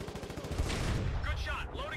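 Tank gunfire in the war game Foxhole: a booming shot followed by rumbling echoes, with a voice talking over the blast.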